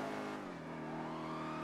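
A car engine revs steadily under a police chase in a video game, a loud sustained roar with a rising harmonic whine and no pauses.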